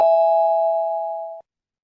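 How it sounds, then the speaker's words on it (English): A Bard app notification chime signals a completed download: a single clear, bell-like tone struck once, sustaining evenly and fading slightly before cutting off abruptly after about a second and a half, heard alone. "That was the app telling me that Back of Beyond is now downloaded."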